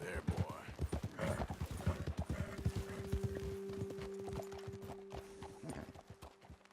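Horses walk on the ground in the video game Red Dead Redemption 2, with a busy, close clip-clop of hooves and a steady tone sounding beneath the later steps.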